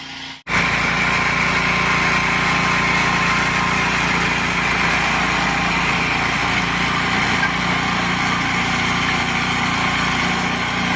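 A snow blower engine runs steadily while clearing snow from a driveway after a heavy storm, a loud, close, continuous high-pitched drone with a mechanical rattle that holds almost unbroken after a brief dip at the start.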